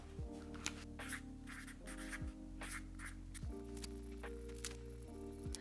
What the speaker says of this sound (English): I'm gonna write down each collaboration for May, each collaboration for June